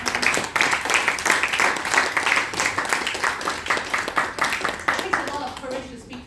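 An audience at a Toastmasters meeting claps in a room, a dense ripple of hands that rises loud and close, carries on for several seconds, then thins out and stops, with voices heard among it.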